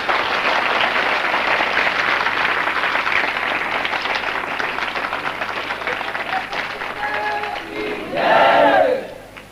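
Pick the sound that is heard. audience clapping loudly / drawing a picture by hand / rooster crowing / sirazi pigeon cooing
audience clapping loudly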